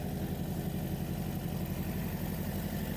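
A STOL aircraft engine runs steadily and loudly at a STOL competition practice, with a continuous low, even drone and a slightly lean tone, no talking over it.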